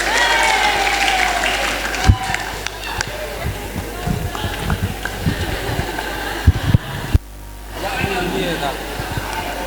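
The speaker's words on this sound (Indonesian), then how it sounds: "Beri aplaus untuk Ustadz Gatot." An audience at a school student-council candidate debate claps for a teacher, a clatter of applause that rises and falls, with voices and brief microphone handling bumps over it.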